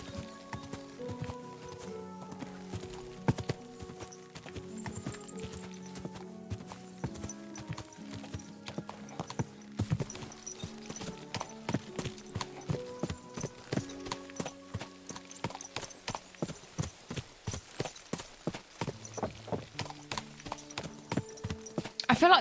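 Rhythmic hoof clip-clop from a horse being ridden in the video game Kingdom Come: Deliverance 2, steady and moderately close, growing into a quicker, more regular beat over a layered game music bed.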